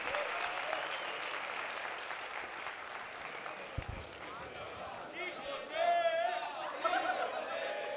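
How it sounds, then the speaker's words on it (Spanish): Steady audience applause greets a comedian on stage at a comedy show, mixed with crowd chatter and cheers, with a shout or whistle near the end. "Reciban con un fuerte aplauso."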